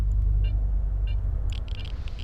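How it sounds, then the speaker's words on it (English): Deep, continuous low rumble of an approaching emission storm in Stalker: Call of Pripyat, loud and steady, with a few faint metallic clinks and scrapes on top. "It's like some kind of weird storm or something."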